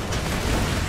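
A grenade blast in Borderlands 2 gives a short, loud, broadband burst of explosive noise lasting under a second, heard alone with no talking.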